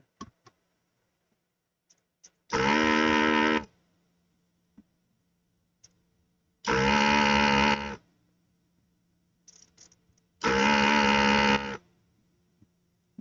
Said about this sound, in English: This desoldering gun has a vacuum pump. That's what that noise is.